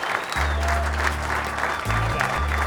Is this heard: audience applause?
yes